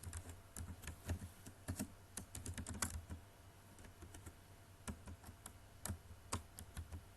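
Rapid typing on a computer keyboard while entering text into a web form's input fields: close, crisp clicks in irregular bursts with short pauses and no talking.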